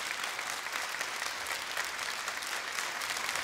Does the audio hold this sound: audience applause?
yes